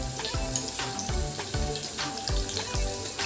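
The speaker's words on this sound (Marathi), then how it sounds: "इथे मी दोन तीन लसणाच्या पाकळ्या बारीक चिरून घेतलेल्या आहेत ते टाकूयात" Finely chopped garlic, ginger and green chili sizzling in a pan as the base for a soup, a steady close frying hiss with repeated clinks and stirring knocks throughout.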